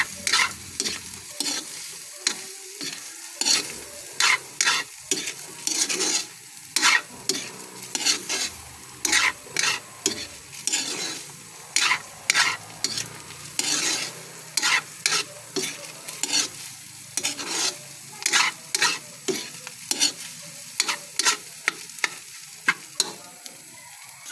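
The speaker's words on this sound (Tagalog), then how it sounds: "Nilagyan natin para haluin natin." Pork lung stirred in a frying pan with oyster sauce, vinegar, soy sauce and fish sauce: repeated scraping stir strokes over a soft sizzle, steady and close.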